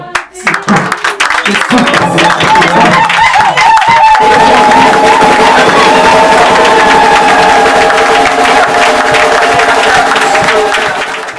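A church congregation cheers and acclaims with sustained, loud clapping and voices that fill the space for about ten seconds. Some tonal sound blends into the crowd noise, and the applause tapers slightly near the end.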